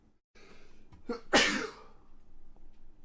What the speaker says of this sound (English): I have another sneeze coming.